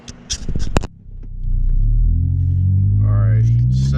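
Ford Focus with an upgraded throttle body, its engine rumbling steadily and building as the car pulls away after a few knocks and shuffles inside the cabin, with a whining tone rising near the end.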